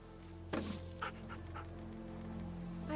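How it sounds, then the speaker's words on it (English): A dog in the video game The Walking Dead Season 2 barks a few times in quick bursts, moderately loud, over a steady low electronic hum. "Stop barking."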